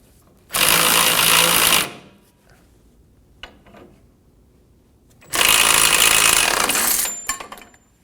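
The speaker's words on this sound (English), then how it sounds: "Snug the bolt down." Bolt on the rear lower control arm of a 2019-2025 Ram 2500 being driven tight, heard as two loud, sustained bursts of an impact or power tool, each lasting over a second with a pause of quiet shop noise between them.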